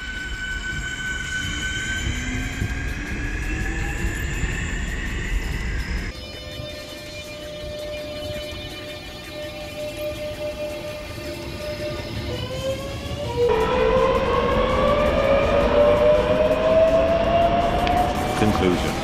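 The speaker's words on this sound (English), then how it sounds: "you will never be more than a few clicks away from being able to listen to some of the greatest sounding trains the UK has" A British Rail Class 365 Networker electric train runs with rising and falling motor whine and steady rumble, shifting tone partway through, while someone talks over it throughout.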